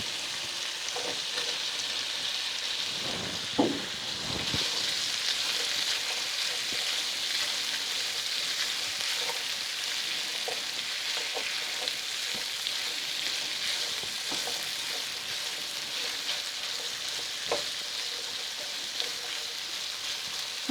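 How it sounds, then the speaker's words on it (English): Onion fries in a pan with a continuous, even hiss of sizzling oil like steady rain, punctuated now and then by a faint tap or stir. "now then I'm going to be adding in my onion."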